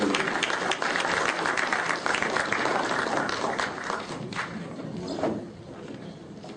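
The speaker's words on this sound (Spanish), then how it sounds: "Un aplauso para recibir al decano del Colegio de Estadísticos del Perú." An audience applauds to welcome the dean of a statistics professional body at a forum, steady crowded clapping filling the room and easing slightly toward the end.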